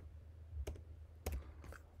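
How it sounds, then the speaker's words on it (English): Computer keys click as a code is typed, a few soft, sparse taps close by in a quiet room with no talking. "So just type it right here"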